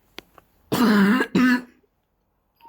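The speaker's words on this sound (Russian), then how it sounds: "Кашель." A person coughs and clears their throat in two harsh bursts, close and loud, with quiet pauses between.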